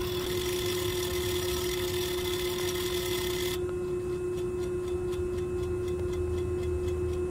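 An electronic expansion valve drive actuates on a Trane air-cooled chiller, giving a soft, steady mechanical ticking over a constant hum. The broadband noise drops away midway, leaving the faint regular clicks clearer.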